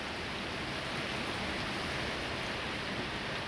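Steady, dense rainfall during a thunderstorm hisses evenly throughout at a constant level, with no distinct thunder claps standing out.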